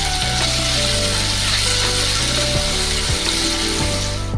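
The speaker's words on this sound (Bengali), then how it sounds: "এবার দেবো নুন আর হলুদ দিয়ে এটাকে ভাজবো ভালো করে।" Potato pieces fry in a pan with salt and turmeric on a gas stove, giving a loud, continuous close-up sizzle broken by scraping stirs, with no talking.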